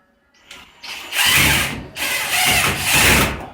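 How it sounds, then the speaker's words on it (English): A DeWalt impact driver drives a screw in two close, loud whirring bursts, the first rising into a sustained run and the second following after a short break. "Let me grab my impact. I'll use DeWalt because DeWalt never fails."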